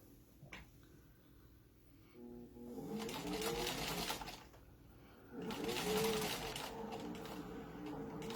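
A domestic sewing machine top stitching one-eighth inch from the edge, its motor whirring in two steady runs of a few seconds each with a short pause between, close and fairly quiet.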